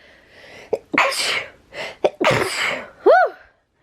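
Several sneezes in a row, close and loud, with short pauses between them and a breathy squeal at the end.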